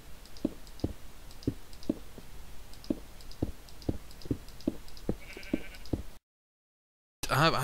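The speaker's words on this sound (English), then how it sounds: "Oh, sheep." Sheep in the Minecraft video game bleat repeatedly over a steady run of sharp, evenly spaced clicks, then a short silence gives way to a loud burst at the end.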